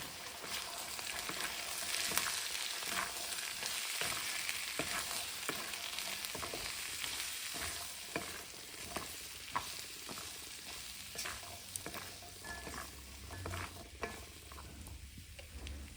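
Boiled potatoes with peas and red chili powder fry in a pan for a dry Punjabi aloo matar, a soft continuous sizzle with a spoon stirring in light, regular scrapes and taps, faint and without voices.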